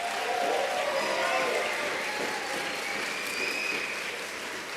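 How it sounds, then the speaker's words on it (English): Applause fills the hall after teams finish presenting on stage at a business presentation finals, a dense sustained clapping that slowly tapers, with faint crowd voices mixed in. "give a big applause for all the teams who have presented on stage tonight"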